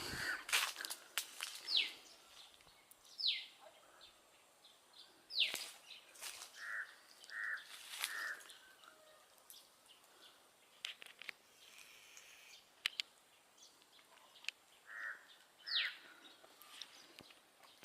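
Scattered bird chirps and a few harsh crow caws ring out at a moderate distance over quiet village outdoor ambience among mango trees, with occasional soft rustling steps.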